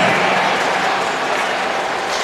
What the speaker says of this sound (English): we're going to have one clap for each student athlete